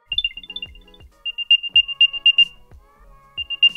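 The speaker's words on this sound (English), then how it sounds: "It makes a pretty decent amount of sound too, considering how small it is." An Apple AirTag plays its Find My locator sound, a rhythmic series of bright, short electronic chirps and beeps in repeating bursts with brief pauses, clear and close.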